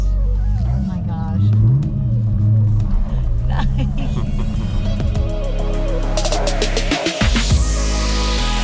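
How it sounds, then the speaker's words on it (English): A big Hemi V8 car engine rumbles loudly and revs up, the deep roar rising and falling close by, with a person talking over it. "listen to the engine. Yep. Oh, wow. It does have a Hemi."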